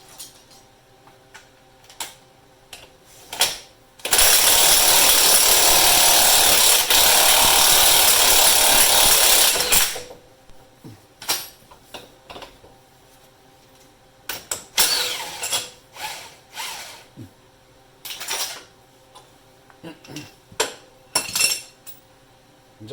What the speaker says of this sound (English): we're going to use the actual ball joint press from OTC to get this out.